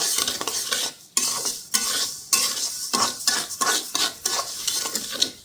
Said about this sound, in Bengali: এই যে মাসকলাইয়ের ডাল ডাল ভাজছি ভেজে তারপর ব্লেন্ডার করে গুঁড়া করব